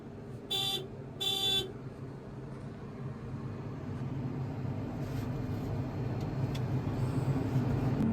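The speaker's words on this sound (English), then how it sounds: "Let's see if the horn is as good as in the Trident." Two short horn blasts from a new hydrostatic sprayer vehicle sound close and loud near the start, followed by a steady low engine rumble.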